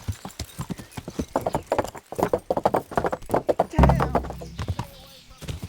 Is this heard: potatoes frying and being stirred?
no